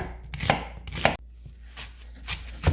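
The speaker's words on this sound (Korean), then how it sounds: "양파 도톰도톰 너무 작으면 먹기 그렇잖아요. 먹기 좋은 크기로 썰어 주시겠습니다." A knife chops onion into thick, bite-sized pieces on a board: several sharp, separate cuts in an uneven rhythm. They are close and fairly loud, with no talk.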